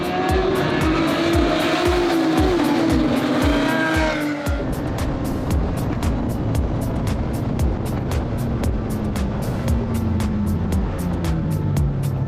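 SCCA race car engines roar and rev hard as cars accelerate together two by two into the first turn at a race start, with a rapid rising whine of several engines close by.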